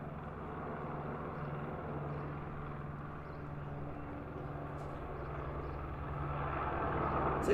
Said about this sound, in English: Still trying to work out what this helicopter is.